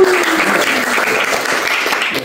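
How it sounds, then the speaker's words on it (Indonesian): Audience applause at a Christian worship gathering for civil servants in Indonesia, dense steady clapping filling the whole short stretch at close range. "Tepuk tangan dong untuk Desi sama Robert."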